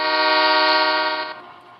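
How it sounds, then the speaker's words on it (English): Generic train horn from the Train and Rail Yard Simulator video game, a loud steady harmonic blast held for over a second before fading away, heard alone. "I'm going to guess that the horn is going to be a generic train horn sound"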